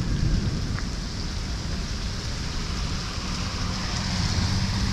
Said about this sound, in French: Du tonnerre, de la pluie,